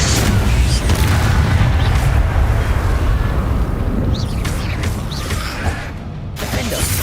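A spell explosion from the video game Hogwarts Legacy lets off a loud, dense boom followed by a long rumbling wash of blast noise and debris, with game effects and a voice briefly on top.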